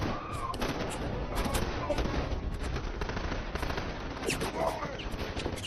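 Film shootout with bursts of automatic gunfire and scattered shots, fairly distant and muffled, mixed with dramatic background sound and no clear talk.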